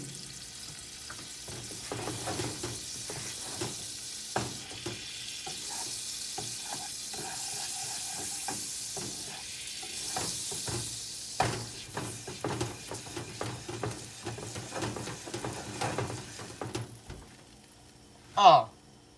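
Grilled cheese sizzles in a pan while a utensil scrapes and stirs it, giving quiet, irregular scraping ticks over a soft frying hiss, with a sharper clatter near the end.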